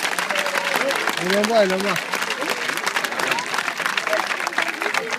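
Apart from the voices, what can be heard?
audience applause at end of show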